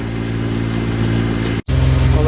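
A boat engine runs steadily at about 3,000 revs while cruising near six knots on a tidal bay, a constant loud drone with a brief cut before it resumes.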